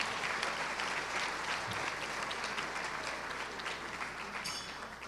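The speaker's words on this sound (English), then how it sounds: "if you could all just join me in a big round of applause to the J staff" A gala crowd at a children's scholarship ball gives the staff a big round of applause, sustained, dense clapping filling the room at moderate level without speech.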